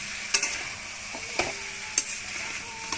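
A curry with potatoes is stirred in a pan, giving a soft steady sizzle with a few sharp spoon scrapes and clinks spaced through it, close and fairly quiet, with no talking.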